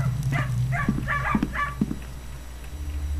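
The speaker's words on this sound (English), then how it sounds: "Dogs!" Dogs in the stealth game The Dark Mod bark in a rapid cluster of sharp yips over a steady low background hum, several barks in quick succession before trailing off.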